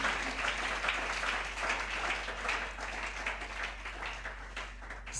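Church congregation applauding and cheering, a dense, steady wash of clapping from many hands that fills the room evenly throughout.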